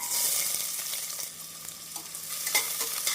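Steady crackling sizzle of chopped onions frying in hot oil for chicken kulambu, with occasional stirring scrapes, continuous and close throughout.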